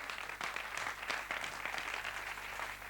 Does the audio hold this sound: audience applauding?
yes